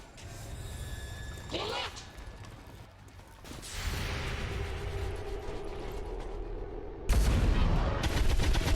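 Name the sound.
gunfire in XCOM 2 video game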